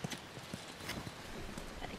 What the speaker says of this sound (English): You guys have horses.